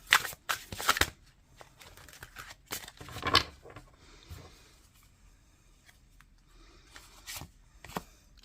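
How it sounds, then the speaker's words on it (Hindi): Tarot cards being shuffled and drawn from a deck, a series of crisp riffling and flicking bursts, loudest in the first few seconds, then softer slides and taps, close and alone without talk. "मैं सिर्फ एक कार्ड निकालूंगी, अनलेस के मुझे एंजल बोले कि एक कार्ड और निकालना है।"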